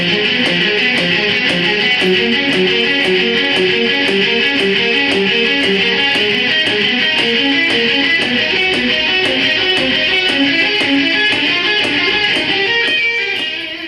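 A two-string arpeggio on electric guitar, played slowly in triplets in a neo-classical shred style, repeats its picked notes evenly in a steady rhythm for the whole stretch, close and alone with no talking.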